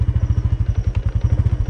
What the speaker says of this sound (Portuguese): Eu vou ligar a moto aqui